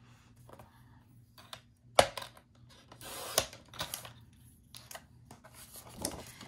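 Scissors snip black and gray Santa-patterned paper for a rustic Christmas craft, giving sharp, irregular close clicks and short crisp cutting bursts against near silence.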